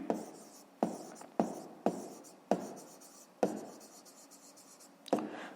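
Pen strokes scratch on paper as someone handwrites a fifth-grade math exercise, a quiet close series of short scribbling bursts with sharp starts, about seven of them across several seconds.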